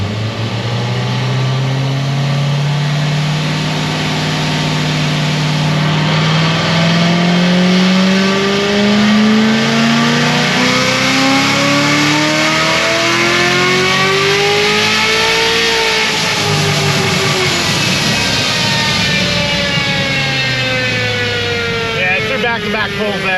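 A high-powered car making about 1,028 horsepower revs hard during a dyno pull, its loud engine note climbing steadily in pitch for roughly fifteen seconds before dropping back as the throttle eases.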